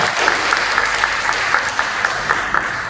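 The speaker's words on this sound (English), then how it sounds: "Give them a round of applause" Steady applause from guests at a Toastmasters club anniversary dinner, honoring young club members, an even patter of many hands continuing throughout.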